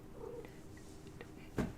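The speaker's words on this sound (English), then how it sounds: "She came in, starts meowing, and wants to play." A cat meows, a short harmonic call followed by a louder, brighter cry near the end, close to the mic over a low steady room hum.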